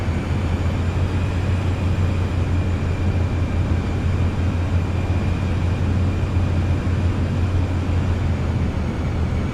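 A Cirrus Vision Jet SF50 G2 taxis at San Diego in Microsoft Flight Simulator, its engine giving a steady, unchanging drone with a low hum running beneath for the whole stretch.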